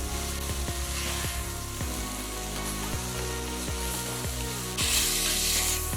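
Minced garlic sizzles steadily in a pot for chicken noodle soup, a continuous frying hiss with repeated scraping clicks from stirring, growing brighter and louder near the end.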